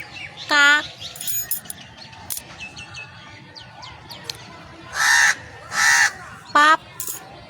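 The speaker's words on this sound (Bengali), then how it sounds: "কাক" Crows cawing outdoors in a few loud, harsh bursts with quieter chirps and rustling between them, calls fairly near and spaced irregularly.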